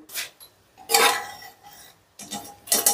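Pressure cooker lid being opened after the pressure is released, holding cooked chana dal: a few short metallic clanks and scrapes of the lid against the pot, close and separated by brief pauses.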